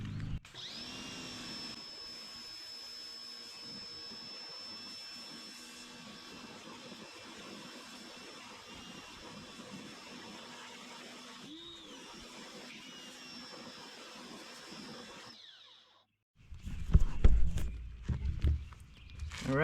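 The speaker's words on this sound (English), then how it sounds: "we're going to give it a quick hose off" A hose sprays water onto a car wheel in a steady close hiss that swells briefly near the middle, then cuts off before a louder burst of handling clatter at the end.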